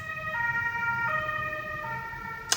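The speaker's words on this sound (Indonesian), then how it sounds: "Maaf, ada ambulans." An ambulance siren passing outside, loud steady wailing tones that shift pitch as it goes by, over low road rumble and without speech.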